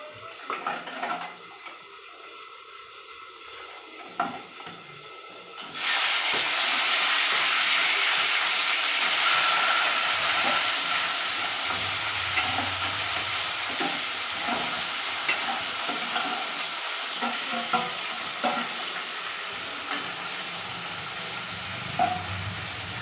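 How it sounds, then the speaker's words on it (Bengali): Crabs hit hot oil in a pan after a few quiet seconds, bursting into a loud, steady sizzle that carries on to the end, with occasional faint clinks of utensils. "তেল গরম হয়ে গেছে, কাঁকড়াগুলো দিয়ে দেবো।"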